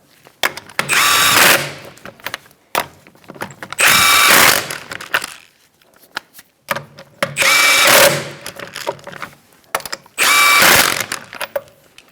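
Power tool tightening the wheel lug nuts on a 2004-2009 Mazda 3 in a star pattern, four loud bursts of whirring impact, each about a second long, separated by short pauses with faint clicks.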